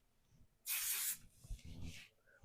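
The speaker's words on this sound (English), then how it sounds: "I'm going to spray it a little bit." Two hissing blasts from a hair spray can, a strong half-second spray followed by a softer, shorter one, close and crisp against quiet room tone.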